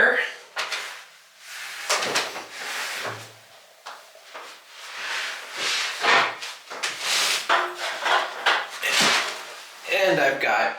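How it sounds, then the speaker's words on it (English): A multi-tool blade cuts through a plaster wall in bursts of rasping, scraping strokes with short pauses between them, close up, and a person speaks between cuts. "I've just got a little bit more to cut out through the plaster"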